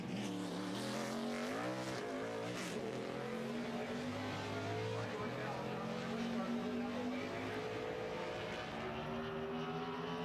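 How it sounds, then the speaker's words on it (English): NASCAR stock car on track during qualifying at Richmond, a loud engine drone rising and sliding in pitch as it runs through the lap, steady and continuous with a commentator talking over it. "There goes the 36 car."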